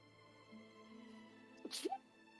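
A single quick sneeze, short and sharp, heard faintly at some distance over quiet background hum.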